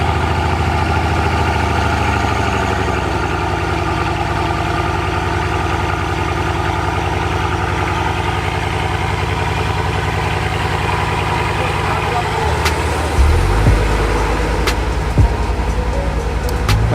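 A Bugatti engine idles after a cold start, a steady, loud low drone with faint vibration, then a few sharp clicks and a brief shift in the engine note toward the end.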